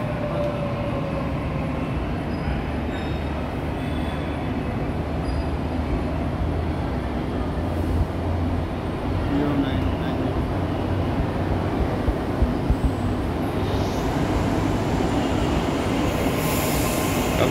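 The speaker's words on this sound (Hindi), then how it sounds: "और आप ये देख सकते हो कि ट्रेन आ चुकी है।" A crowded Mumbai metro train pulls into a station, with a steady rumble of rolling carriages, clicking wheels and occasional squeals, continuous and fairly close throughout.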